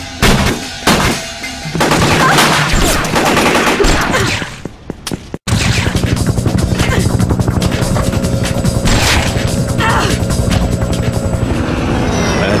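Rapid gunfire in a Fear Effect cutscene rattles loud and dense over a helicopter's steady rotor drone, with a brief drop to near silence midway before the shooting resumes.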